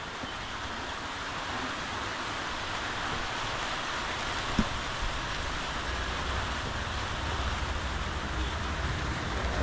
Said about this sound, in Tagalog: malakas na ulan po